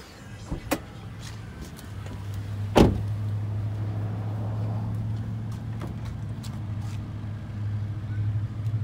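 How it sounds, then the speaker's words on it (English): A hatch or rear door on a 2016 Toyota Corolla S sedan is popped open, giving a couple of soft clicks and a sharp latch release near the start, over a steady low engine idle hum that carries on throughout. "Pop the back open here and give you a look inside."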